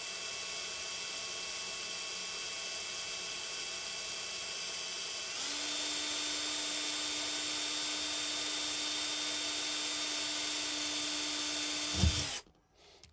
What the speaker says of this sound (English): I'm just letting the drill do its job